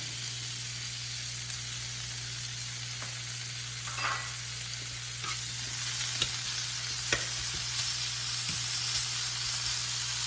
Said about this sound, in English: the first item that we're going to start to saute is going to be our bacon